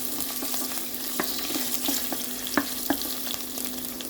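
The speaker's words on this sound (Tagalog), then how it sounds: "fry our onion. Just fry for a few seconds." Onion frying in a hot pan for sweet and sour chicken, a steady close sizzle with a few sharp clicks of stirring spread through, no talking.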